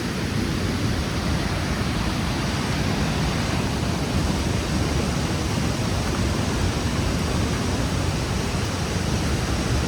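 Savatkada Waterfall roars as a dense, steady wash of water, loud and unbroken from start to finish with no voices.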